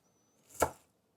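A single knife chop cuts through vegetables for a creamy vegan coleslaw. It is one crisp, isolated stroke on a cutting board, heard close up in an otherwise quiet kitchen.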